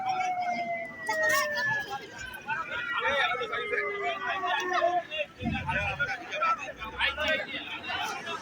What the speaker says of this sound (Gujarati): એમ્બ્યુલન્સ હવે આવી ગઈ છે